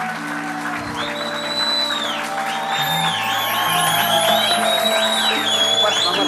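A studio audience gives a guest star sustained, loud applause that swells steadily, with scattered cheers and whoops and music playing beneath.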